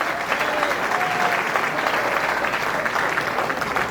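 A crowd at a high school football hall of fame ceremony claps and cheers steadily, the dense applause holding at an even level throughout.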